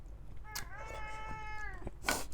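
A cat gives one drawn-out, clear meow close by in a home kitchen while spicy Thai food is being made, with a brief bump before it and a short noisy burst after.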